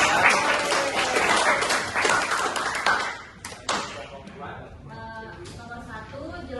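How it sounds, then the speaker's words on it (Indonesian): Students applauding in a classroom during a practice teaching lesson, brisk clapping for about three seconds that tapers into scattered claps, followed by talking. "Oke, beri tepuk tangan untuk"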